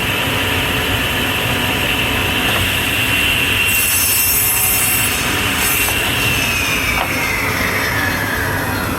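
A saw cuts the end off a wooden board for a stool stretcher, its loud continuous whine with a high metallic squeal running steadily throughout, with no talking.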